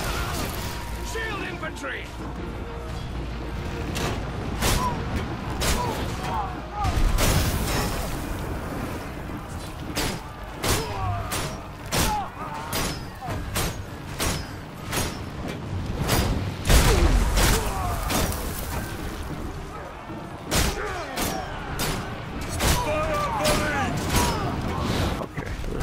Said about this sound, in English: Archers, fire volley!